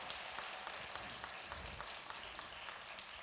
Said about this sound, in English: So please could I ask you to give our sponsors a round of applause.